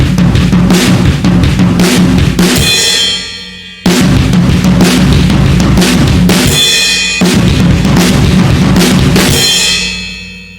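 A drum kit plays a beat with sticks, a loud driving rock groove of kick, snare and hi-hat, repeated in three phrases that each end on a ringing crash cymbal.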